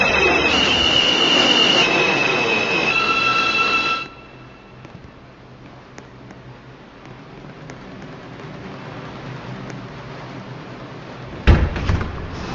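A New York City local 1 subway train, loud grinding rumble with squealing wheel tones for four seconds, then a quieter low hum as it settles, ending in a sharp door slam near the close.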